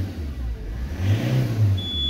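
Ford Transit Mk7 van engine revved from idle, the pitch climbing in a couple of quick throttle blips before easing back to a steady idle, close and alone.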